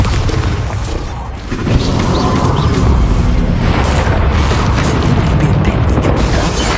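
Bombarda spell blast in the Hogwarts Legacy video game: a loud, dense boom that swells after a brief dip and rumbles on continuously with crackling debris, no voices over it.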